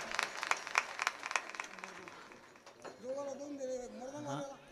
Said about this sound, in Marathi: याच्याकरता सुद्धा टाळ्या जोरदार वाजवा